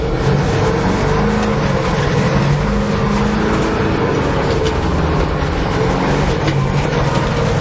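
A 427 dump truck on a farm test drive, its engine droning steadily and loudly with a rough rumble and road noise, close up and continuous throughout, no voices.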